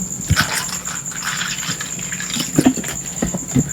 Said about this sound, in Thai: เทน้ำก่อน